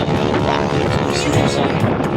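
An aerobatic biplane carrying a wing walker holds engine power at an air show, giving a loud, steady drone mixed with wind buffeting.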